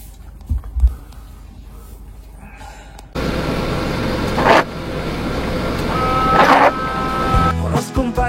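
Expedition camper on summer tyres driving up a slope, a quiet start with a few knocks, then a loud close engine drone that strains and builds, with brief squeaks and clunks.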